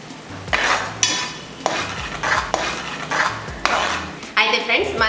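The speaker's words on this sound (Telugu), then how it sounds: "కొంచెం పచ్చి వాసన పోయేంత వరకు కలబెట్టుకుందాము" Chicken gravy with turmeric being stirred in a pan, with repeated scraping strokes of a spoon against the metal over a steady sizzle, close and fairly loud with no talking.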